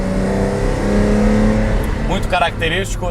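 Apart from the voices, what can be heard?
Ferrari Testarossa engine roaring while revving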